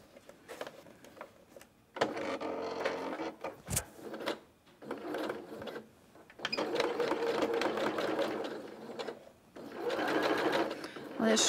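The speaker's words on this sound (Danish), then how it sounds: "Nu syr jeg indsnittet." A domestic sewing machine stitches a dart in a garment from a printed sewing pattern, its steady motor whir running in several bursts separated by short pauses, with someone talking between and over the runs.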